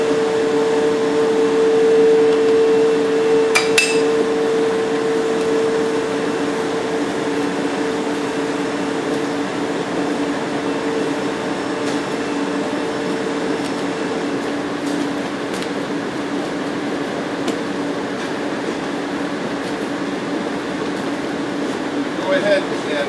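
An electric mixer whirs steadily through a sweet potato casserole made with melted, lightly salted butter, a continuous motor drone that holds evenly throughout, with a few faint clicks near the start.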